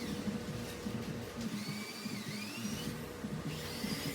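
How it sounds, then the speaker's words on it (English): A grinder fitted with a cutoff wheel works on a 1959 Aerocraft boat, giving a continuous whining buzz with sliding high-pitched squeals as the wheel bites, fairly close and steady throughout. "She decided that she really, really liked grinding, so she kept that going."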